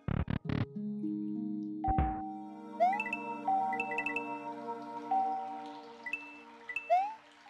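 Chiming bell tones from the video game Super Mario Maker 2 ring out repeatedly over steady game music, preceded by a few sharp thumps.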